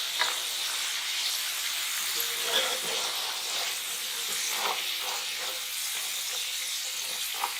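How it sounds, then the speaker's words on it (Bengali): Potato sticks for French fries frying in hot oil, a steady soft sizzle and hiss with occasional stirring clicks, moderately quiet and close. "3 থেকে 4 মিনিট প্রত্যেকটা আলু আমি সুন্দর করে ভেজে এবার আমি চামচের সাহায্যে তুলে নেব।"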